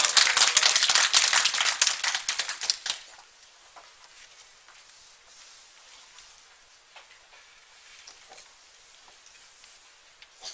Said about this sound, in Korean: 박수로 좀 부탁드립니다